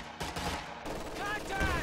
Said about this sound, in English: Lemon's going to retake building control with this MG42.